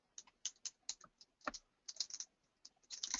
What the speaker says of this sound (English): We'll type in our words